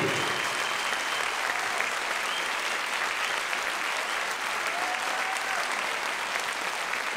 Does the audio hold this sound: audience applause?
yes